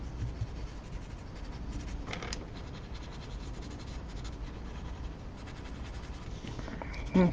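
Soft, close scratching of mechanical pencil graphite on paper in quick strokes, faint and steady, with a brief sharper rub near the middle.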